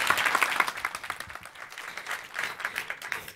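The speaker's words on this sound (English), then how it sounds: "So just a round of applause for Louise on the way through." Moderate applause from an audience at a medical lecture on prostate cancer imaging, a short burst of clapping that fluctuates and thins out slightly over a few seconds.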